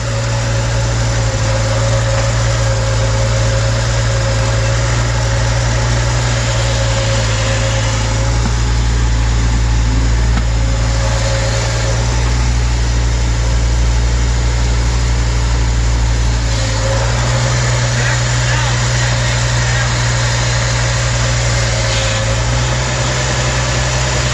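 A 1986 Ford F150 engine runs steadily at idle with a constant low rumble and faint hum, loud and close, without speech, while the steering wheel is turned back and forth.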